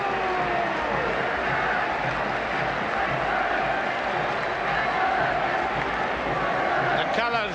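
Large rugby league crowd at the 1978 Challenge Cup Final between Leeds and St Helens, a steady roar of applause and cheering at half time, broad and continuous with voices mixed in.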